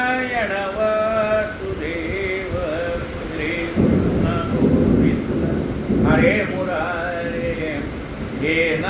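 Heavy rain and deep rolling thunder in the background, with voices chanting or singing prominently over the storm.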